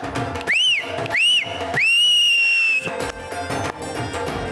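Shrill whistles blow in a few short rising-falling blasts, then one long sustained blast, loud and close, with clattering noise in the background.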